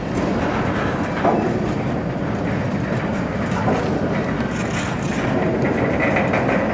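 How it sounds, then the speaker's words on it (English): A freight train with container cars rumbles steadily past at close range, with continuous rolling noise and faint clickety-clack of wheels over the rails. "And it looks like we are coming up on the end of the train."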